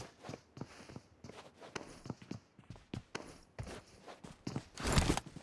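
Footsteps in the mobile battle royale game PUBG Mobile come as a quick run of close, crisp steps with short gaps, ending in a louder scuffling burst.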